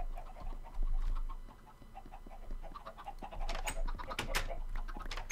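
Minecraft chickens in a coop cluck repeatedly, a busy cluster of short clucks that grows denser and louder toward the end, near and alone without speech.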